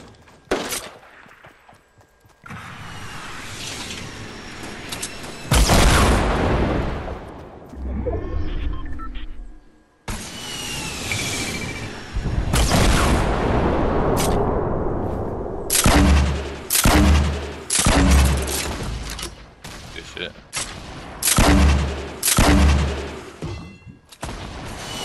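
Video game gunfire bursts out in loud, sharp volleys that alternate with quieter gaps, including a rapid string of closely spaced shots near the end.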